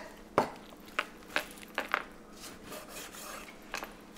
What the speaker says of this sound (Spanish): ahora sí lo vamos a picar para ponerlo a cocer